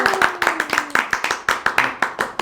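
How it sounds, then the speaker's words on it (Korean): An audience clapping in unison at a studio talk show, a brisk, rhythmic run of sharp handclaps close by over about two seconds. "박수!"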